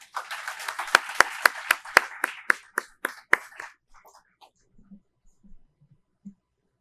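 Applause at a VA Northeast Ohio Healthcare System employee awards ceremony opens with a burst of sharp, close claps. It thins out and fades to a few faint scattered taps.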